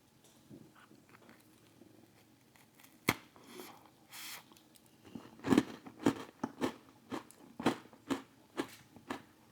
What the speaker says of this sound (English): This is definitely a crispy cookie.